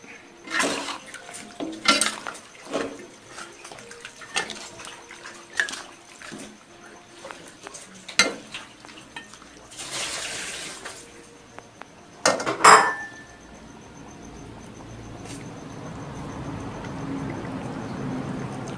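Clanking of a utensil against a pot while chicken red curry is stirred, a run of separate metallic knocks and scrapes with a quieter, continuous simmer-like hiss toward the end.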